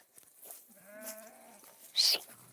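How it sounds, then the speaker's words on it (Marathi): Goats and sheep bleat in a rural flock setting: a drawn-out wavering bleat in the middle, then a sharp, louder high cry near the end, over soft background noise with no talk. "त्या दोन बकऱ्या बाहेर राहिलेल्या आहे"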